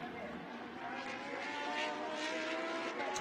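A Lamborghini Super Trofeo race car sweeps out of the final corner at Fuji circuit, its engine a continuous loud roar holding steady throughout.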